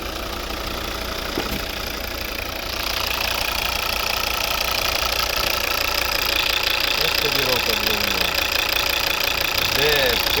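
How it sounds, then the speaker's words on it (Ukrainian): The 2.0-litre five-cylinder diesel engine of a 2011 Volvo V60 D3 with automatic transmission idles with a steady knocking rumble, then grows slightly louder and rougher partway through, close by and continuous. "Ось робота двигуна."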